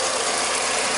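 A 2010 VW Gol G5 engine idles with the radiator cap off, a steady, close mechanical rumble and hiss that stays even for the whole second.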